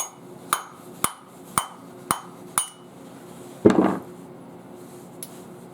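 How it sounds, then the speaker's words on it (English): Five sharp metallic hammer strikes at a steady rhythm knocking a bearing out of a BMW 550i/650i power steering pump, followed by a louder clanking knock and one faint tap, close and distinct. "I can probably just take a hammer and thump it."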